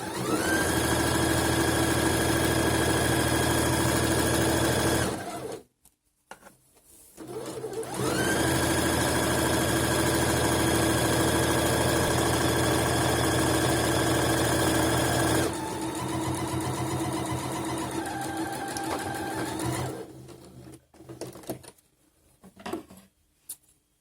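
A sewing machine stitching a lining onto a cross-stitch prayer rug runs in long, steady whirring bursts, pauses briefly, then starts again and shifts to a slightly different pitch before stopping, close and loud.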